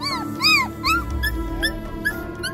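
Puppies whimper and yelp in a village beside their dead mother dog, giving a string of high, wavering whines and short yips that rise and fall over about two and a half seconds, close by with no talk.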